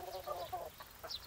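Chickens on a mountain farm cluck softly in a few short, scattered calls, faint and somewhat distant over low background noise.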